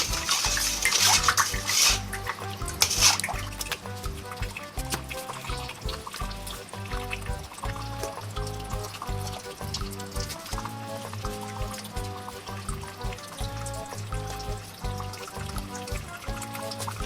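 Salt being stirred into water for soaking bananas, steady liquid swishing and sloshing in a bowl with a brief louder splash early on, close and moderately quiet.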